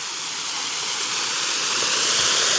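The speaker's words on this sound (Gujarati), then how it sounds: "પાણી ફૂલ ચાલુ થઈ ગયું છે" Irrigation water gushes steadily into a mustard field, a continuous broadband rushing hiss like a small waterfall, close and loud without a break.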